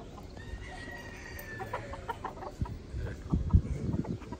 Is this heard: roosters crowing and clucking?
yes